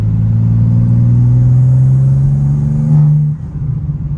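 A 2024 BMW M2 tuned to 750hp revs hard, a loud, steady deep engine drone heard from inside the car that rises slightly, then drops off sharply near the end.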